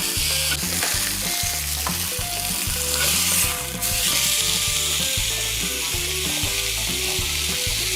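Thin cut steak sizzles loudly in a hot pan, a close, continuous frying hiss with a brief scrape as the meat is flipped, while background music plays underneath.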